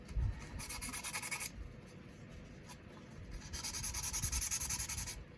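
Rusty Schrade pocket knife blades rubbed clean with WD-40, two bursts of close scratchy scrubbing separated by a quieter pause, with no talking.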